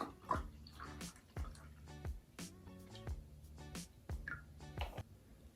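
Cold filtered water pours for cold brew coffee in a few short separate bursts, each with a rising gurgling tone as a vessel fills, close and fairly quiet.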